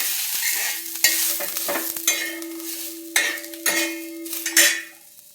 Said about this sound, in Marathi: गरम तेलातच आपल्याला आहे ना कोथिंबीर टाकायची आहे